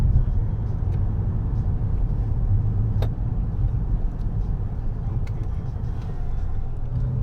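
A car drives along a road toward a petrol pump, giving a steady low engine and tyre rumble that holds at an even level throughout, with no talk over it.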